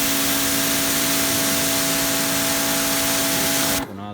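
An Adam's electric pressure washer (2500 PSI, 1.8 GPM) sprays water with a loud, steady hiss and motor whine, running continuously and then cutting off abruptly near the end.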